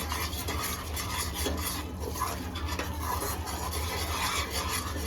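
A thick mixture of puffed edible gum and flour is stirred continuously in a pan for laddoos, giving a steady scraping, rasping rhythm with faint sizzling beneath, close and moderately loud, with no talk.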